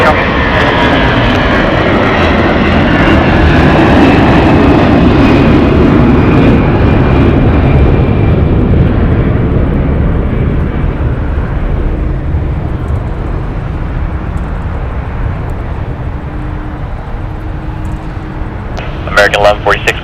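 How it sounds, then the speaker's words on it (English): Airliner taking off from runway 25 left at LAX, a loud, steady roar of jet engines that slowly fades and thins out, with radio voices heard under it. "RNAV Hyper, runway 25 left, clear for takeoff"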